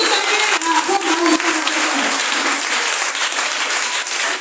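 A church congregation breaks into steady applause, dense overlapping clapping that fills the room for several seconds, loud and close with no voices over it.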